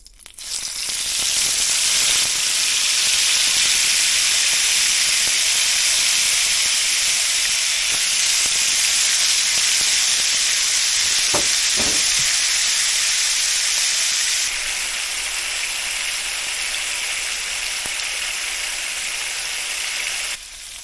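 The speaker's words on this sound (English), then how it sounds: "Largemouth bass going in the pan." Largemouth bass fillets, seasoned with Texjoy seasoning, fry in hot oil in a pan with a loud, steady sizzling hiss that holds for about twenty seconds, with a couple of brief clatters midway.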